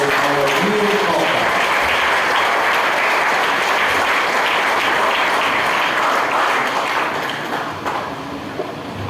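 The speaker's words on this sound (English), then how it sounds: "Let's give a round of applause to our new couple." Wedding guests in a church applaud the newlywed couple, sustained loud clapping from a full congregation that gradually softens toward the end, with faint organ-like tones at the start.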